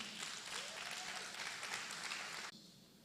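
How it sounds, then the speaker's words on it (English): A conference crowd at a photography business event claps in a full, sustained burst of applause, which cuts down sharply near the end to a thinner, quieter patter. "I want you to give a big round of applause to Mr."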